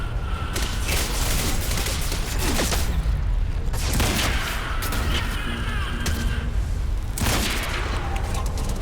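Video game gunfire in the shooter Quantum Break crackles in rapid bursts and repeated shots over dense game noise, loud and continuous through the whole stretch.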